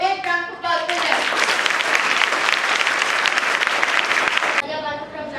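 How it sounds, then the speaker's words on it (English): A school audience at a Republic Day event in Hyderabad bursts into loud, sustained applause for a group of students. A voice speaks just before the clapping starts and again as it fades. "Please give a big round of applause for them."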